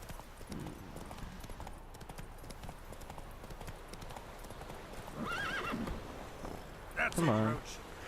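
Horse hooves clip-clopping steadily in The Witcher 3 video game, with the horse snorting and whinnying near the end over quiet ambient game sound.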